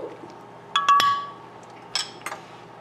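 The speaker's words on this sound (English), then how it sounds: "And give it a quick stir." A spoon stirs tablespoon of salt into natural dye liquid poured in a tray, giving a few bright glassy clinks in a short cluster, then two or three lighter taps, fairly close in a quiet room.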